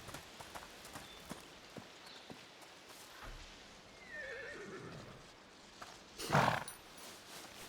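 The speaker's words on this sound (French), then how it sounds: "Ah, les chevaux." Horses neigh and whinny in the video game A Plague Tale: Requiem, a faint hoof clatter and scattered clicks leading up to one loud, close whinny near the end.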